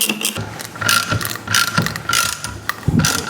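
A ratchet turns the camshaft bolt on a 1.6 HDi engine, producing a close, continuous series of rapid mechanical clicks and metallic rattling in uneven strokes.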